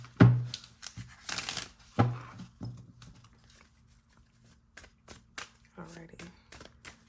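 Self-care cards being shuffled, several quick papery riffles and taps in short bursts, close and fairly soft, with a few scattered light clicks between them.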